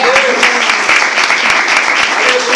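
A church congregation clapping loudly and continuously in fast rhythmic applause, with voices mixed in beneath the clapping.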